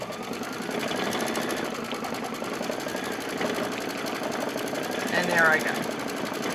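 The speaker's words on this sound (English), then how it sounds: "I take my fabric, place that over top, hit start. And again, we're going to stitch around." An embroidery machine stitches a quilted basket in the hoop with a fast, steady mechanical chatter, while a person talks over it.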